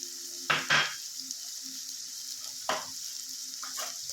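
Fenugreek leaves stirred into a hot curry pan with green chillies, a soft steady sizzle broken by a few short scraping stirs, close and quiet with no talking.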